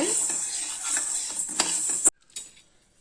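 Grains dry-roasting in a pan while being stirred steadily, a close rustling, scraping hiss with light metallic clinks that stops abruptly, followed by a faint tap.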